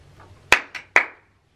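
A person claps three times in a quick, uneven sequence, sharp and close in a quiet room, with silence after the final clap.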